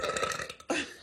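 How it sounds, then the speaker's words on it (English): A single close, loud burp from a woman, starting with a brief rumbling lead-in and ending in a strong, gravelly belch, with no talk over it. "I have to burp."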